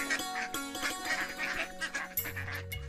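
Cartoon ducks by a pond quack in a quick nasal run of calls, close and fairly loud, with a low hum entering near the end.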